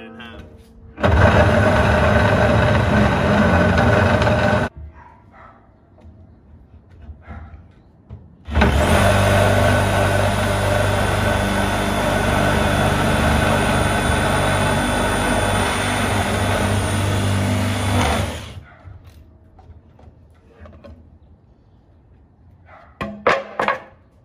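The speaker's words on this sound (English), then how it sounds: "this sawzall. Got this old piano. Let's cut it in half." A sawzall reciprocating saw cuts an old piano in half in two loud, harsh buzzing bursts, one about four seconds and a longer one about ten seconds, separated by quieter pauses with faint knocks.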